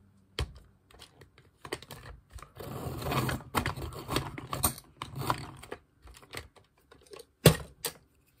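Scratchy, rhythmic grinding of a pencil being sharpened nearby, in short bursts with a longer steady stretch, plus light clicks and taps.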